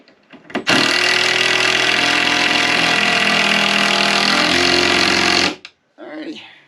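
A power tool runs in one long, loud, steady burst for about five seconds while boards are tacked up in an attic, then stops abruptly, followed by brief talk.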